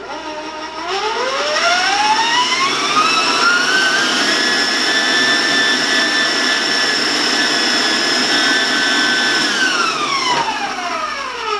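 An electric mixer motor whirs up to a loud, steady high-pitched whine beating egg whites, holding for several seconds, then winds down.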